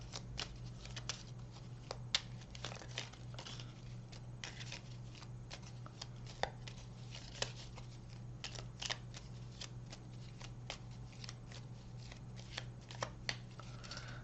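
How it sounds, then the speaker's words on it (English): Playing cards being shuffled and mixed for a labyrinth board game, a steady run of soft riffling and sliding flicks over a constant low hum, close and fairly quiet with no talk. "let's just mix up the cards"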